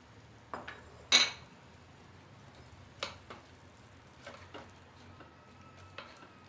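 Spoon stirring rice, sambar and torn coriander leaves together in a pan, with a few scattered scrapes and clinks of metal on the pan and quiet gaps between them.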